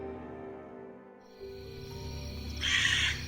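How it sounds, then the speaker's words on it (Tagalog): A bird cries out in a harsh, crow-like caw, a loud burst near the end over a low steady hum of background noise. "Sinundan yun ng huni na parang uwak."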